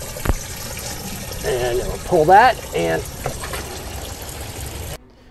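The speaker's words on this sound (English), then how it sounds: "So now we've dumped all that chlorinated water out of the fresh tank." Chlorinated water drains from an RV fresh water tank's opened release valve in a constant hissing gush beneath someone speaking close by, until the sound cuts off suddenly near the end.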